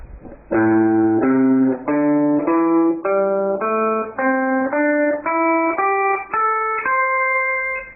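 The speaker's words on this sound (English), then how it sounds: "So today I'm going to show you what's called the blues scale." A clean, slightly distorted electric guitar plays the blues scale as a rising sequence of single notes, each ringing about half a second, climbing steadily in pitch with no talking.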